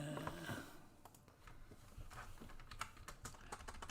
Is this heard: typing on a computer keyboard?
yes